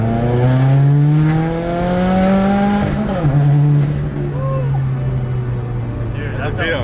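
A Subaru WRX on a dyno is revved hard, with its engine note climbing steadily, dropping sharply at a shift and then rising again. Loud and close throughout, with voices talking over it.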